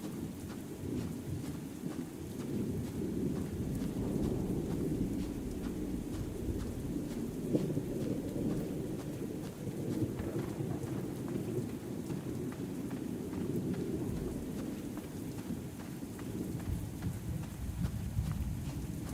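Steady rain with rolling thunder in the video game Outward 2, a continuous wash of rainfall under deep low rumbles that swell and fade over the stretch, with no talk.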